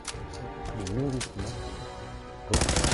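Gunfire in the video game Fallout 4, a dense rapid burst that kicks in near the end and stays loud, following a stretch of voice and game sounds.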